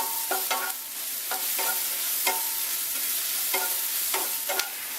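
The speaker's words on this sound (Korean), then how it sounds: "이 정도로 볶아서 당면 옆에다가 샤샤샤 펼쳐서 좀 빨리 식힐게요" Vegetables for japchae stir-fried in a hot pan, with a steady soft sizzle under repeated metallic scrapes and clanks of a spatula against the pan in an uneven rhythm, close and moderately loud.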